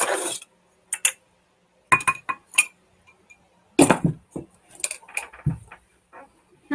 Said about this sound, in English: I am going to put an ice cube in it just because I hate warm drinks.